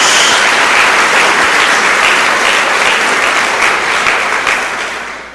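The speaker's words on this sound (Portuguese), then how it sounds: "Dê uma salva de palmas ao Senhor" Church congregation giving a loud round of applause, a thick continuous roar of clapping from many hands that holds steady and then begins to fade near the end.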